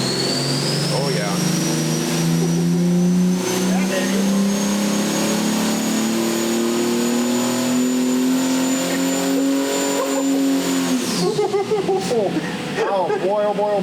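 A turbocharged Ford 300 inline-six pulls hard on a dyno, its loud rising howl with turbo whine climbing steadily before the throttle snaps shut, leaving excited voices talking over the fading engine.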